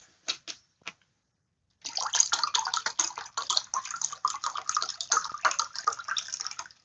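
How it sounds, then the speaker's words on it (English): Coconut and elderberry water being poured: a few short splashes, a pause, then a long, steady, fairly close stream of liquid. "We pouring that coconut water because we gotta have it. It's coconut and elderberry."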